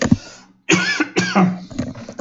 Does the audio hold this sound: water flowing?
no